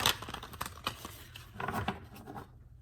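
Soft, quick rustling and riffling of tarot cards being shuffled, a few short bursts close by, then it falls quiet at the end.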